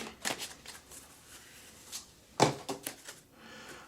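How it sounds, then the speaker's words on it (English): An Avalon Oracle tarot deck being shuffled by hand, with soft riffling bursts and card slaps coming in irregular clusters, close and fairly quiet. "We're going to go ahead and shuffle and see what we get."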